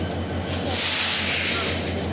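Passenger train on an overnight winter run between Khulna and Dhaka, a steady rumbling roll with a faint rhythmic low thump and broad hissing rush, continuous and fairly close with no voices.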